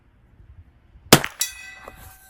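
A round from a Mossberg 142a bolt-action rifle, first production year, strikes a steel target with a light glancing hit: one sharp clang after a quiet lead-in, then a second ringing ding that fades over about a second.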